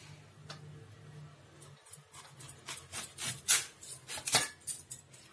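A knife slices a washed pomegranate in half at a kitchen counter: a few close, sharp ticks and rasping scrapes of blade through rind, quiet at first and then clustering into firmer cuts, with no talking.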